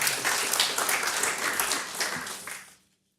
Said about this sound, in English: let's have another big round of applause for the incredible IT team